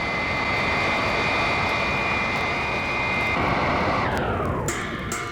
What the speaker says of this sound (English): Robot plane slow to rendezvous with ship and hover.